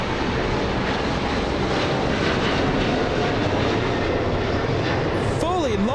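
A China Cargo Airlines cargo jet taking off at Los Angeles International Airport, a loud, sustained engine roar from start to finish, with someone talking over it near the end.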